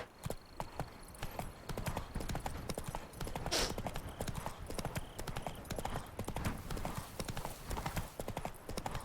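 Roach the horse's hooves clip-clop steadily in The Witcher 3, a continuous rhythmic trot of close, dense hoofbeats with a brief whinny-like burst mid-way, lasting the whole stretch with no talking.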